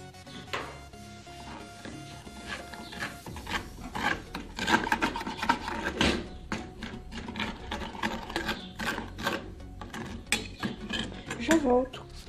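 A utensil scrapes and rubs against a pan while stirring brigadeiro mixture with milk, in repeated irregular strokes, with occasional metallic clinks, close and moderately loud.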